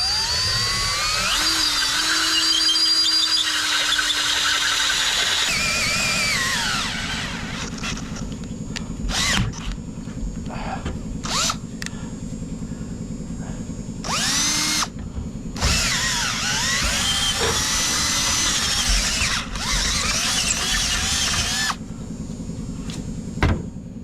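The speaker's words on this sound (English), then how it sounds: "might drill better through this side" Power drill boring through metal on a tab for a winch wiring job, a long, close whining grind that changes pitch as the load shifts, followed by several short bursts of drilling with pauses between them.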